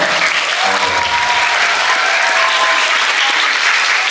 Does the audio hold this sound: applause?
yes